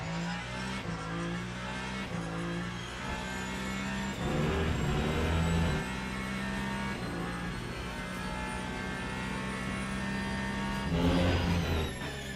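A GT3 race car engine in the Le Mans Ultimate racing game drones steadily and climbs and drops in pitch through gear changes and throttle lifts, with a few louder revving surges, and no talking.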